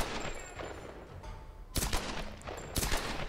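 Gunshots from the video game Tomb Raider: Definitive Edition, a few sharp bursts of gunfire standing out over a constant game soundscape, with two louder shots near the end.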